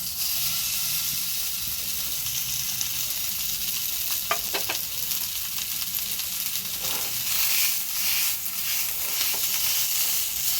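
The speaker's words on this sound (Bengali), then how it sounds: "তেল গরম হয়ে গেছে, এর মধ্যে এবার আলুটা দিয়ে দেব।" Potatoes frying in hot mustard oil in a pan, a loud, dense hiss and sizzle close up, with a few light clicks of stirring scattered through, no voices.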